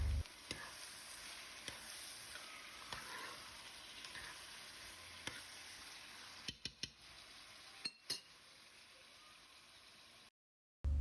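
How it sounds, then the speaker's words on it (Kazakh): Tomatoes fry over high heat for eggplant caviar, giving a faint, steady sizzling hiss. A few light clicks of stirring come near the end, and the sound cuts out briefly just before it stops. "қызанағымызды да асықпай 20 минуттай, 15 минуттай қуырып аламыз"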